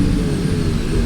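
Low, steady engine rumble of an F1 car in the F1 26 video game, a Cadillac at Bahrain, held at a continuous drone as it peels into the pit lane, with no talking.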